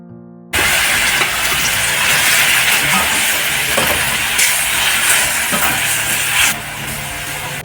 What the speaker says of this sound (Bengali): এবারে জল ফুটতে শুরু করলে ভেজে রাখা মাছগুলোকে কড়াইতে দিয়ে দেব।